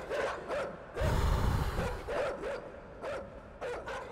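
Dogs in the video game INSIDE bark in quick repeated bursts, with one heavy, louder thud in the middle, all close and sharp with no talking.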